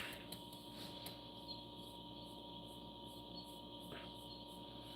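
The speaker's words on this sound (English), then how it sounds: "There is frogs chirping in the background." Frogs chirp outdoors at night in the background, a quiet, continuous rasping trill with a steady pulsing rhythm and no voices over it.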